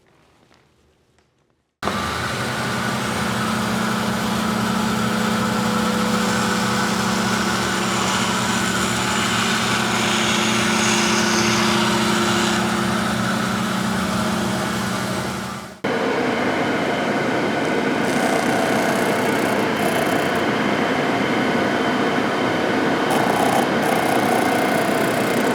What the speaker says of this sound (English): Now we'll go over the bandsaw and cut off the majority of it